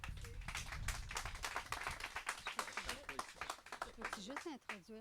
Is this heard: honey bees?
no